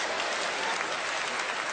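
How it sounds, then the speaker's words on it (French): A crowd at a lively French-language show applauds for the group Chérubin, a brief, steady wash of clapping that fills the moment without any voice over it. "applaudissez pour le groupe Chérubin"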